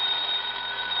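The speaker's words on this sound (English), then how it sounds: "pick that other phone off the hook, Dollar. That noise is killing me" A telephone rings in an old-time radio drama as a continuous bright electric bell trill, steady and fairly loud, with no voices over it.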